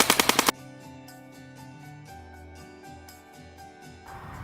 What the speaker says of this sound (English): fire a short burst to ensure that no BB is left inside the gun